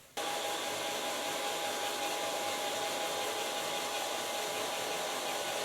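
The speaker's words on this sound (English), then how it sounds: "And then I'm going to blow dry this hair." A hair dryer blows steadily on short hair during a styling session. It switches on almost at once and keeps a loud, even, close rush of air with a constant hum throughout, and no one speaks.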